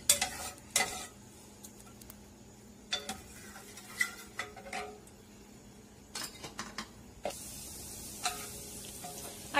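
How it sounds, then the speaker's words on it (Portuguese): Flour stirred into butter and garlic in a pan for a gorgonzola pasta sauce: a spoon scrapes and clinks intermittently against the pan over a low, faint sizzle, with no talking. "e mexe até que toda ela fique bem dourada e agregada à manteiga"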